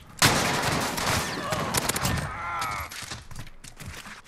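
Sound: PP19 Bizon gunfire in video game Modern Warfare

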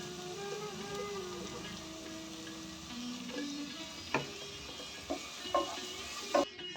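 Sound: frying ground spice paste with salt and turmeric

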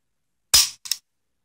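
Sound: Ruger SR22 pistol dry fire trigger pull

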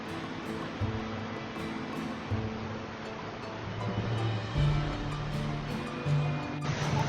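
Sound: river water flowing over rocks

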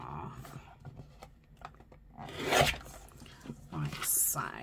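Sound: cutting Christmas packaging in half

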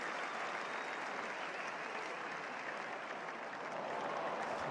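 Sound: crowd applause at a tennis match

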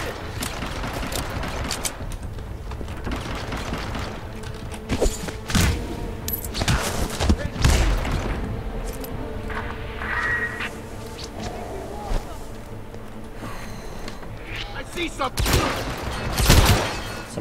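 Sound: gunfire in the video game Hitman Absolution

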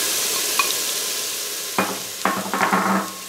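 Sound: diced onion and jalapenos sautéing in an Instant Pot

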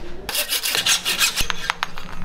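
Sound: sawing through a carbon bike part

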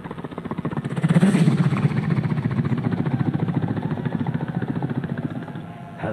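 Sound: beatboxed helicopter imitation

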